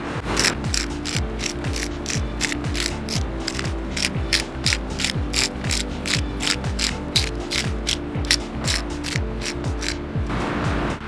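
A hand pepper grinder cranks a regular pepper mix for seasoning steak, giving a steady run of close, dry ratcheting clicks with grinding underneath for about eleven seconds and no talk.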